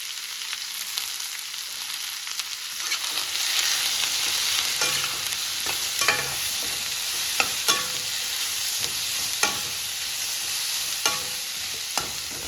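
Vegetables sizzling in a hot pan with salt and turmeric while being sautéed, a steady frying hiss with occasional scraping clicks of a spoon stirring, quiet at first, then continuous, with no talk.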